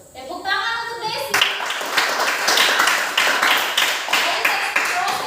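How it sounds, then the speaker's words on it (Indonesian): A classroom applauds a student after a lesson on procedure texts, clapping starting abruptly after a voice and continuing as a brisk, uneven patter of hands, with some chatter mixed in. "Tepuk tangan untuk Desi."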